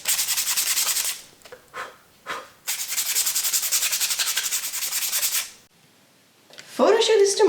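Close, steady scratchy rubbing of sandpaper on a 3D printed Yae Miko catalyst prop, long strokes broken by short pauses, ending with a brief, different handling noise.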